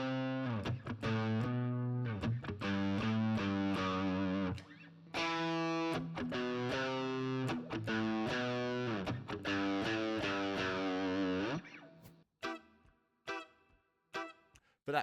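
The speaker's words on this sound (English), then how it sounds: "Let's check out how the riff sounds on the neck and on the bridge pickup of the Strat." Electric guitar riff on a Strat, switched between the neck and bridge pickups, with a lightly driven tone: rhythmic chord stabs and sustained notes, then sparse muted plucks trailing off at the end, close and without talk.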